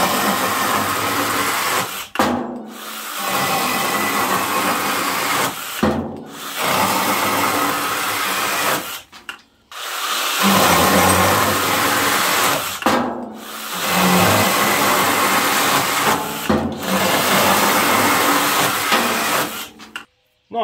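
A Parkside PGHSA 12 A1 12V cordless mini chainsaw running on a 2Ah battery cuts through wood in about five loud, close bursts, each several seconds long and separated by brief pauses.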